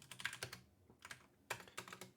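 Typing on a computer keyboard while coding, with quick close clusters of key clicks in bursts separated by short pauses, quiet overall with no talk.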